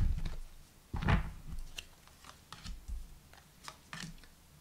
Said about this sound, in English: Very difficult to shuffle.